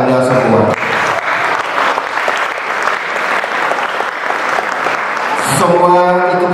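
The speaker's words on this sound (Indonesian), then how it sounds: "Untuk itu berikanlah tepuk tangan buat Anda semua." An audience claps at a school ceremony celebrating Indonesian Independence Day at a boarding school. Brisk, close applause runs for several seconds, with a voice speaking briefly at the start and again at the end.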